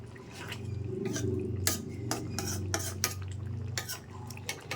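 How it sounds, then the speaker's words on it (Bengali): Stirring potatoes into a pot of soybean curry with cauliflower, a steady scraping and clinking of a spoon against the pot with soft wet sloshing, fairly quiet and close. "দুটো আলু একটু ঘেটে দিলাম"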